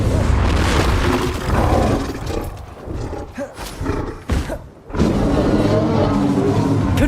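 Heavy booming spell explosions in the video game Hogwarts Legacy, dense roaring blasts that fill the scene loudly, briefly thinning before another powerful burst.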